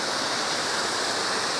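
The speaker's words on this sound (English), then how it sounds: "And there's the waterfall down at the bottom." A coastal waterfall at the bottom of a cove on the Oregon Coast's Samuel H. Boardman State Scenic Corridor pours as a steady, dense broadband rush, unbroken and fairly close, with no voices.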